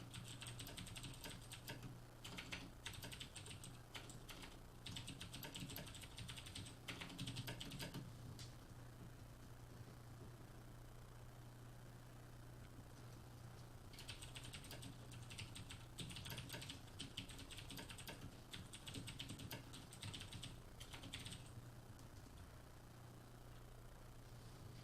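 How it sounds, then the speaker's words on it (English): Rapid clicking on a computer keyboard comes in two long bursts separated by a quiet stretch, the keys close and crisp over a constant low hum, with no talking. "I'm typing up the intro."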